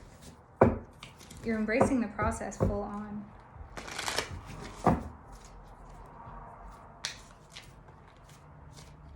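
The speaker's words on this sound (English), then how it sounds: "Let me actually shuffle before I just keep pulling cards." Tarot cards are shuffled by hand in a few quick riffling bursts with crisp flicking and tapping, fairly close, while a person speaks briefly over the first part.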